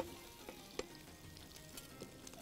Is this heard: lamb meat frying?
yes